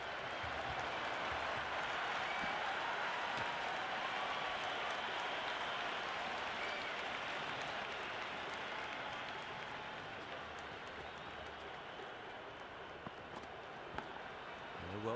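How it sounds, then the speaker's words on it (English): Cricket stadium crowd at a T20 international between Sri Lanka and the West Indies, a steady, dense roar of buzzing chatter and applause filling the stands, constant and fairly loud throughout with no single voice standing out. "There's a buzz, a real buzz coming from the stands."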